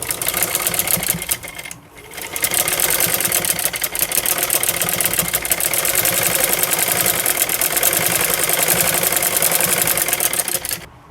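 A sewing machine runs steadily and loudly up close, stitching a seam over earlier stitching on a palazzo pant, with a brief pause near the start before a long continuous whir of rapid needle strokes.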